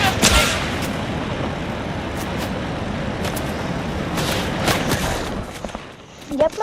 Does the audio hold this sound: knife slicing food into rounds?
no